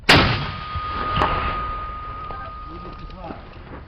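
A single loud mortar shot cracks at the start, followed by a long fading rumble and a faint ringing tone, with distant talk.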